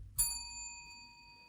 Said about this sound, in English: I'm gonna ring the bell at the top